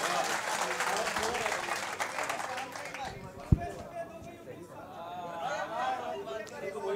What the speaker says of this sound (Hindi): इस्तकबाल कर लीजिए तालियों गड़गड़ाहट में